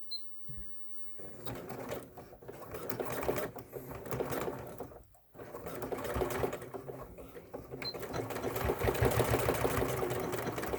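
A sewing machine runs a straight stitch in steady, fairly loud bursts, briefly stopping near the start and again midway before whirring on continuously to the end.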